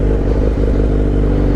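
A motorcycle engine runs steadily and loudly up close as the rider fully releases the clutch, giving an even, unbroken mechanical drone throughout.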